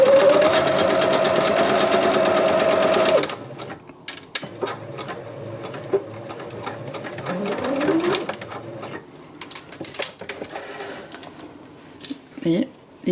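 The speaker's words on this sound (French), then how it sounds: "On va commencer par coudre donc le raccord" A domestic sewing machine stitches a fabric seam for a rug in a rapid, close, even whir for about three seconds, then stops. Quiet handling and a voice speaking follow.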